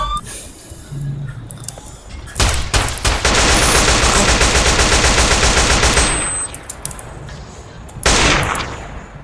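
Video game gunfire in GTA: dense rapid automatic bursts rattling loudly for several seconds, with a few separate single shots before and after, no talking heard.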